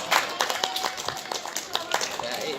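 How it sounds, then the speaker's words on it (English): Audience clapping for debaters at a school English debate final, a thin patter of individual claps across the room, mixed with background voices and chatter. "Give applause for our debaters,"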